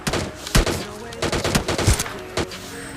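An AWM sniper rifle fires in a shooter video game as several heavy booming shots spaced irregularly over a few seconds, loud and close against a busy game background.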